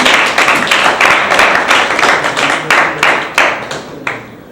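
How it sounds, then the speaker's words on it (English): An audience at a debate event claps steadily, a dense wash of hand claps that thins toward the end into a few louder, separate claps. "Let's give a round of applause to all our speakers this evening."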